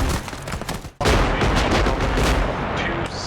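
Gunfire in a military video game, a dense sustained roar of shots and explosions that erupts suddenly and stays loud and close to the end, with some shooting and faint voices before it.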